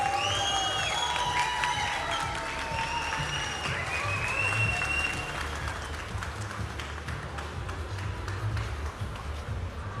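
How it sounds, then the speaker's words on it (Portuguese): A crowd applauds loudly and continuously at a Brasil Game Show talk panel, with scattered cheers and whistles rising above the dense clapping, which fades slightly toward the end. "Uma salva de palmas, senhoras e senhores."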